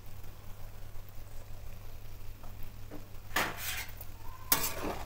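Bitter gourd frying in a pan makes a faint, low sizzle underneath a steady hum, then two sharp metallic scrapes of a spoon against the pan ring out near the end.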